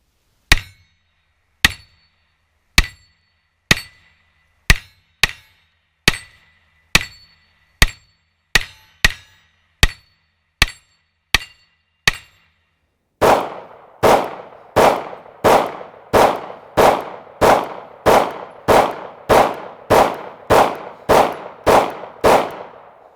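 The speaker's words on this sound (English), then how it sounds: "Let's switch things up and you guys can see these steel targets being hit." Pistol shots from a Beretta M9 and a Sig Sauer P320 striking steel targets: about a dozen sharp, evenly spaced cracks with clear gaps, then a faster run of roughly sixteen louder, ringing hits that overlap and echo, with no talking.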